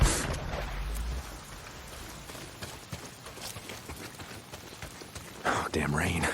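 Steady rain hisses through a scene in the video game Days Gone, with soft hoof-like thuds, game effects and brief voices mixed in and a louder burst of activity near the end.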